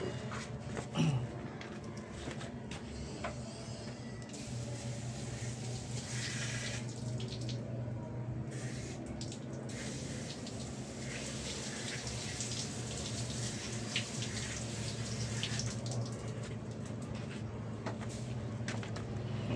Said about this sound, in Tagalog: pwede mo na buhusan ng tubig para malinis